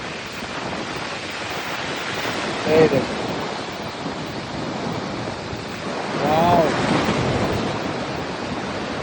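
Waves break and wash over the sand at Tajpur beach, a steady loud surf roar with surges and wind buffeting, while a person speaks briefly over it twice.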